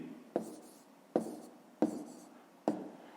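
Numbers written by hand on paper during a fifth-grade math column addition: four distinct, evenly spaced scratchy pen strokes, close and quiet, with no talk between them.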